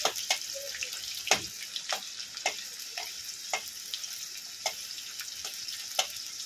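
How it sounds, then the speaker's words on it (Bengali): Chopped onion and chopped chili fry lightly in a pan for restaurant-style chow mein, with a steady soft sizzle and a spatula tapping the pan at regular intervals. "পেঁয়াজ কুচি, হালকা করে একটু ভেজে নেব।"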